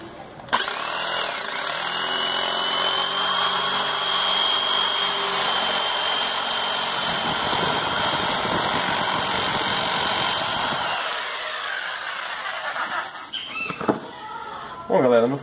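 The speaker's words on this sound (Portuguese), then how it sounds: "a serrinha tá passando aqui do lado. Tô cortando na beira da linha aqui." A small handheld saw cuts along a marked line on a rubber tire, giving a steady buzzing, rasping drone for most of the stretch that fades toward the end, with someone speaking over it.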